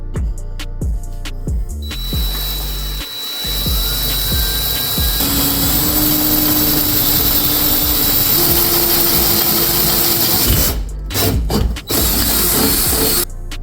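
Power drill boring a hole with an 11/32-inch bit after a pilot hole, fitting a water-methanol injection kit on a turbocharged Honda B-series VTEC engine; a steady loud whirring grinds on for several seconds, with a rising tone, then stops abruptly.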